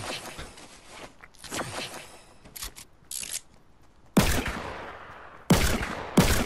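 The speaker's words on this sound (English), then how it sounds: "I'm shooting out a trap" A player in Fortnite shoots out a trap, with bursts of gunfire in scattered clusters: softer rapid shots early, then three loud sharp blasts toward the end.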